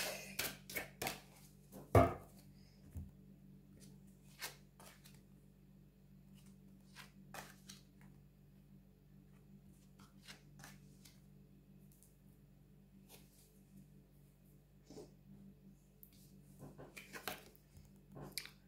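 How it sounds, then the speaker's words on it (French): Tarot cards are shuffled and drawn in a quiet room: a few soft papery slaps and flicks at the start, then sparse light taps and rustles over a low steady hum. "on va aller prendre trois cartes du Mystical Moment Tarot"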